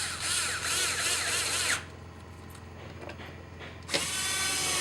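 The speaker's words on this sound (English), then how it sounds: "Then we'll put our 3 T20 torque screws back in." A power screwdriver drives T20 Torx screws into a VW GTI MK5 door panel in two close, loud whirring bursts separated by a short quiet pause, no talk.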